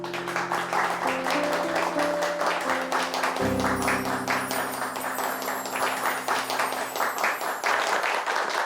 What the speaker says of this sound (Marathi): याच्यासाठी जोरदार टाळ्या झाल्या पाहिजेत